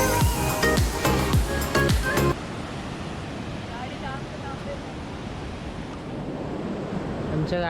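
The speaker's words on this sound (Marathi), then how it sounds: "खवळला आहे काय समुद्र." Rough sea surf roars on the shore near Vengurla lighthouse, with wind blowing sand. After a brief burst of music at the start, a steady, loud, broadband wash of waves and wind continues to the end.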